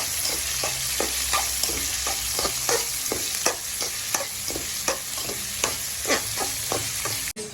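Onion, carrot and garlic fry in oil while a spoon stirs them in regular scraping strokes over a constant sizzle, near and fairly loud, with one sharp knock at the end and no voices.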